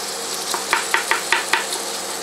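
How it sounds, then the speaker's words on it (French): Onions sweat in a pan, a soft steady sizzle broken by several sharp scraping clicks from a spoon stirring at an even pace, close and fairly quiet. "On ne veut pas que nos oignons prennent de la couleur, donc on les mélange régulièrement."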